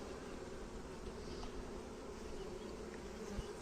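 Honeybees buzz steadily at a hive frame with the queen present, a faint, even drone that continues unbroken throughout with no talking.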